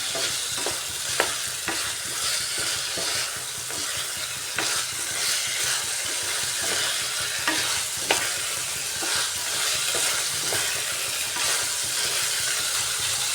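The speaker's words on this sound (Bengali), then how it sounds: "আলু আর সোয়াবিন বিচিটা দিয়ে ভালো করে একটু সময় কষাতে হবে" Potatoes and soybean seeds sautéing in a pan, a continuous loud sizzle broken by regular scraping and knocking of a spatula as it stirs, with no talking.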